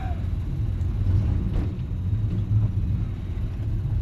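Low rumbling Chevy engine idling with a rough, uneven note from an exhaust leak, steady and close, with faint traffic noise around it.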